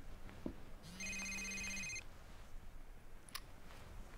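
A telephone rings once in a quiet room, a single faint electronic trill about a second long, followed by a brief click and low background hiss.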